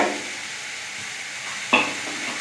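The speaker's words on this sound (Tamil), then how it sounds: "ஆனியன் கொஞ்சம் நல்லா வதங்கட்டும்" Onions sautéing in a pan for a Tirunelveli-style urundai kuzhambu give a steady close sizzle, broken near the end by one sharp clink of a spoon against the pan.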